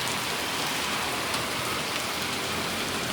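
Heavy rain pours down steadily as a dense, unbroken hiss, close and loud throughout with no voices.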